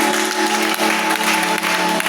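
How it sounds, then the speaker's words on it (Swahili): A church congregation claps and ululates in praise, steady dense applause with high trilling voices running through it, loud and close. "Pigie Yesu makofi na vigelegele."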